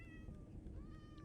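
A cat in the Minecraft video game meows, a short tonal call heard faintly over a low rumbling game background.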